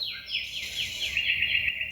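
Continuous high, rapid bird chirping and trilling, bright and fairly close, repeating in quick bursts over a soft low rumble, with no voices.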